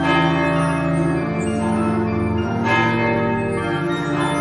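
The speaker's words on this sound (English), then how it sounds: "the great bell crashed down from the steeple" A church bell used as a sound effect in a horror story: loud, sustained ringing tones with rich overtones, struck again mid-way and left to resonate alone.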